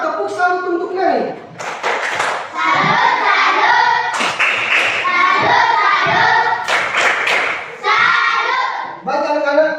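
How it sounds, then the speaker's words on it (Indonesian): A classroom of pupils clapping in unison to salute a classmate, bursts of rhythmic hand claps recurring close by across the whole stretch, with a teacher's and children's voices mixed in between. "Tepuk salut untuk Nani"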